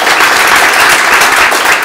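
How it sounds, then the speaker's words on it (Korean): A church congregation claps loudly and continuously, a thick wash of many hands filling the room at close range without any talking. "자, 주님이 박수를 받으시는 겁니다"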